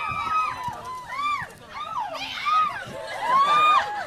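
Crowd of fans cheering, shouting and whooping as the Divergent stars Shailene Woodley and Theo James arrive for an interview, a dense, lively wash of voices with rising excited calls, loud and sustained throughout.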